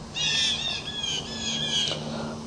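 Birds calling outdoors, a sustained series of bright chirps and squawks close by, with a low steady hum of distant traffic underneath.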